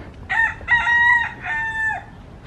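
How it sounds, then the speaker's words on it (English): A small rooster crows in a Hawaii coffee garden, one clear, loud, drawn-out crow in three rising and falling parts over quiet outdoor background noise, with no voices. "there's little roosters everywhere"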